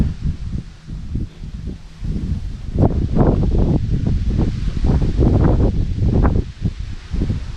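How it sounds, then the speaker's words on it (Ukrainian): Gusty wind buffeting the microphone in uneven low rumbling bursts, rising and falling, with a faint rustle behind it. "вітер дує"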